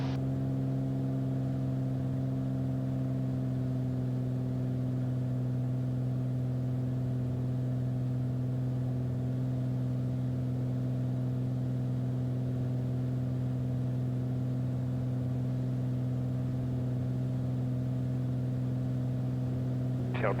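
A Beechcraft Bonanza piston aircraft engine climbs after takeoff, heard as a loud, steady droning hum that holds an even pitch from start to finish with no talking.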